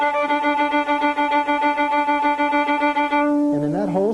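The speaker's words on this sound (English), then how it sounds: "Now here's a fast legato stroke." Violin played with fast on-string legato bow strokes in Texas fiddle style, a rapid run of smoothly connected notes, close and clear, ending with a brief voice starting to speak.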